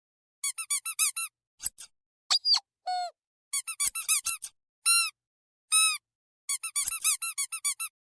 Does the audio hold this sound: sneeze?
no